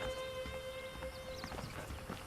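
Horse hooves clip-clopping in the video game Red Dead Redemption, a faint rapid run of hoofbeats under a steady tonal hum and game background sounds, fairly quiet and continuous for a couple of seconds.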